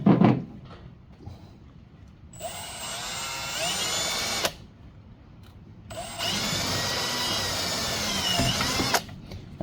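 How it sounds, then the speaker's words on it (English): A power drill bores a hole for a custom alternator mount on a 1948 Ford, running in two long sustained bursts of high whine with a short pause between, close and loud with no talk. "Let's drill a hole here."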